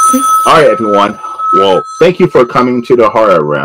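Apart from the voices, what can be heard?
mobile phone ringing during an interview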